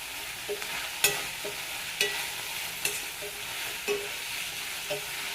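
Spices for a cucumber coconut chutney fry gently in a pan with turmeric and asafoetida, giving a soft continuous sizzle broken by occasional sharp clicks of a spoon against the pan.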